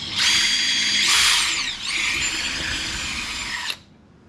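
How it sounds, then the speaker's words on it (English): A power drill with an acrylic bit bores through plastic on a baggage door latch, a loud, close whine that rises in pitch, dips, then runs steadily before cutting off abruptly. "Go ahead and drill these out. I'm going to drill the second one out"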